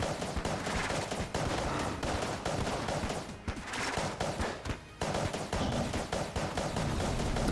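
Rapid, evenly paced shots from the Polaris gun in Enter the Gungeon fire in a loud, continuous stream, with two brief pauses midway.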